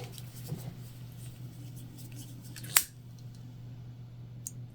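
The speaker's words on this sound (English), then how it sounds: "anytime that you cut zipper tape, you want to make sure that you seal it with heat" Scissors make a single quick snip through zipper tape while a pouch is being sewn, a short crisp cut up close against a quiet hum in the room.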